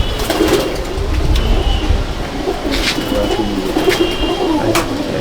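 Madrasi pigeons cooing steadily nearby, a dense layered chorus of low burbling coos from several birds, with a few sharper bird calls on top and no talk heard.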